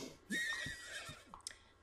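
A horse in The Sims 3 lets out one bright, quavering whinny, close and fairly loud, with a few soft snorts and hoof-like taps around it.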